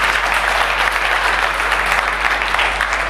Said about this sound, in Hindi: एक बार सब तालियां बजा के प्रसादी लाल जी का स्वागत करें।